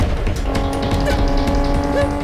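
A car driving fast during a chase scene, a loud sustained engine roar with a brief tire squeal near the end, under a busy dramatic soundtrack.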